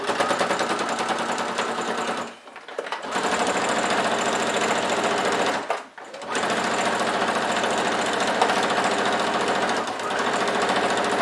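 Sewing machine stitching the bottom edge of a fabric pouch, a fast, steady mechanical rattle running close and loud, broken by two short pauses before carrying on.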